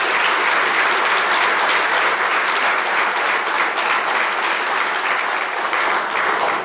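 Loud, dense applause from an audience at a mayor's strategic plan update, a continuous close burst of many hands clapping for several seconds without talk.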